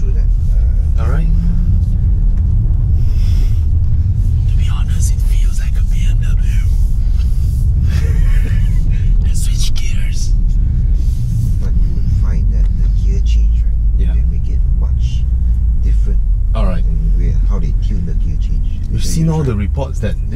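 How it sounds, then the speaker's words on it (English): A 2019 Toyota Supra's exhaust drones as it drives, a loud low rumble that runs steadily throughout under frequent talk from people inside the car. "the exhaust notes is nice"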